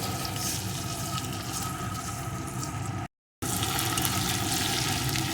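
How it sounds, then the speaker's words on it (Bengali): Finely chopped medium potato frying in oil, a dense continuous hiss with a brief dropout partway through, loud and close with no talking. "আলুটাকে একটু ভেজে নেব"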